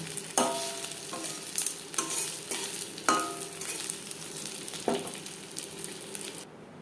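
Crispy slices of catla fish fry in hot oil with a steady close sizzle, marked by sharp spatula clatters every second or so before cutting off abruptly.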